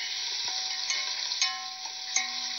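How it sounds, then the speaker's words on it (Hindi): Onions fry in a hot pan with a steady sizzle, while a utensil scrapes and stirs them in a few distinct strokes, close and clear. "हमें प्याज़ों को लाइट ब्राउन करना है, ना कच्चे रखने हैं, ना ही हमें ज़्यादा ब्राउन करना है।"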